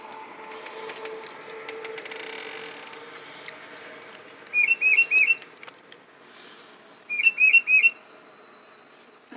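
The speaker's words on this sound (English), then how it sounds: "What do you want, little bird?" A tufted titmouse whistles close by outdoors near a door, giving two clear bursts of about four rapid, bright notes each, separated by a pause, over a soft background murmur.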